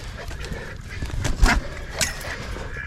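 Indian runner ducks in an outdoor pen give a few soft quacks and honks, with a louder cluster near the middle and another brief call shortly after, over low background noise.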